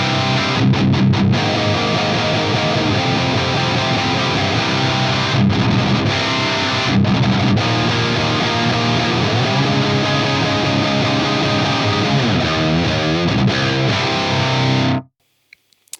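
Distorted electric guitar played through an AX8 Rectifier amp model with the cab block's low cut set at 80 Hz, a dense, saturated chugging riff running steadily for about fifteen seconds before stopping abruptly.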